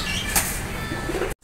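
A Teddy master pair of imported-bloodline pigeons gives a brief soft cooing close by, a low throaty murmur lasting just over a second before cutting off.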